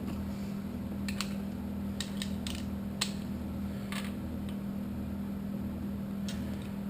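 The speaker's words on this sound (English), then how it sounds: "I just tighten until the ratchet starts to click." A ratchet on Corvair engine valve adjusters gives a few sparse, light clicks over a steady low mechanical hum, spaced irregularly across the clip.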